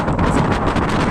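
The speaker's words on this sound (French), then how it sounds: "il y a beaucoup de vent" Strong wind on a mountainside in Greece roars and buffets hard against the microphone, a loud, continuous rushing with gusty swells and no voices.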